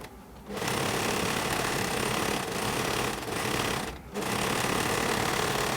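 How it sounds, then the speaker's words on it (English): Sewing machine stitching down a fabric hem on a cargo pocket, a steady loud whirring run that pauses briefly twice before resuming, close and alone without talk. "After ironing it, then I'm going to go ahead and sew that hem down."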